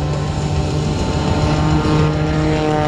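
An MXS aerobatic airplane flying aerobatic maneuvers at an air show over MacDill gives off a loud, sustained propeller-engine drone with a buzzing, harmonic whine that holds steady throughout.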